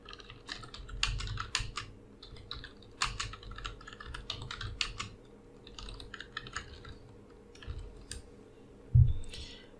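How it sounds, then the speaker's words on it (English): Typing on a computer keyboard, close-up bursts of rapid key clicks with brief pauses between words, moderately quiet against a faint steady hum. "Now type whatever you want."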